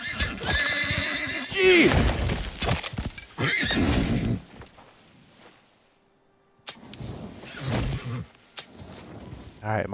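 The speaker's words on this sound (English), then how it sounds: "my horse is still freaking out" A horse in the survival game Icarus whinnies loudly and clatters its hooves in agitated bursts, close and dominant, then falls briefly silent before more snorting and stomping returns; a man exclaims once.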